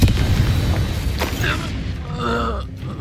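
Confringo fire spell in the Hogwarts Legacy video game ends a rapid string of cast spells, with a booming blast and groaning effects under a dense, loud game mix.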